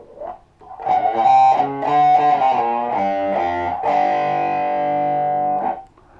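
Distorted electric guitar running through a filter pedal, playing a rising series of thick, buzzing chords that end in a long sustained chord fading out, loud and close with no one talking.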